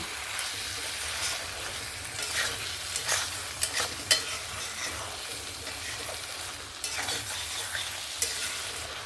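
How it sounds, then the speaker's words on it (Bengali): Fried prawns are stirred into a sizzling masala in a pan for a prawn malai curry, bringing a continuous close fry hiss broken by repeated scraping strokes of the spoon. "এবার আমি ভেজে রাখা চিংড়ি মাছগুলো এখানে দিয়ে দেব। দিয়ে মশলার সঙ্গে ভালো করে মিক্স করে নেব।"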